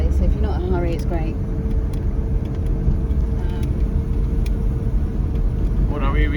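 A 1972 Saab 99 engine drones loud and steady while driving at speed, filling the cabin with road rumble as people talk over it.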